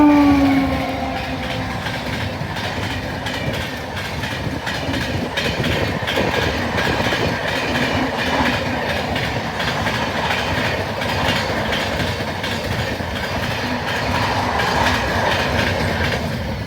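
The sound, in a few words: Bandra Barauni Awadh Express passenger train passing on track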